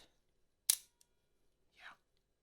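A Seiko leaf shutter in a Fuji GW690 III medium-format rangefinder fires with one sharp, crisp click, followed by a tiny tick and a softer mechanical rustle, close up in a quiet room.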